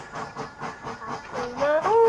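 A train in the Roblox game Livetopia chugs with rhythmic puffing pulses, then sounds a rising whistle toward the end, loud and close, with no talking.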